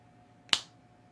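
A single sharp finger snap cracks out once, close and crisp, against near silence with a faint steady hum.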